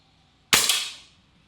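A single sharp shot from a springer break-barrel air rifle, loud and close, with a crisp crack and a short decaying tail after a quiet lead-in.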